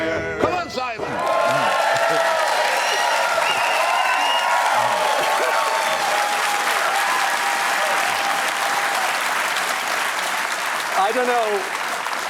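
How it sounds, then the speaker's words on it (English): An audience in Dublin claps along to the rebel song Get Out, You Black and Tans, producing dense, sustained applause with voices and occasional singing blended in, loud and continuous after a brief start. "the audience were happily clapping along with Get Out, You Black and Tans as they were watching it"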